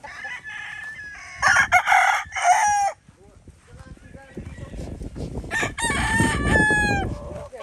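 Gamefarm stag roosters on a large farm in Arayat crowing loudly and close, with several overlapping crows and some clucking, while a few voices talk briefly in the background.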